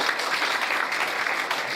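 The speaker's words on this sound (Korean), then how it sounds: "여러분, 다시 한번 큰 박수." An audience bursts into loud, sustained applause for a guest welcomed on stage at an event, dense clapping filling the room throughout.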